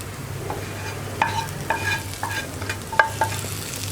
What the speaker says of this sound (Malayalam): ഇതെല്ലാം ചേർത്ത് നന്നായിട്ടൊന്ന് ഇളക്കി മിക്സ് ചെയ്യുക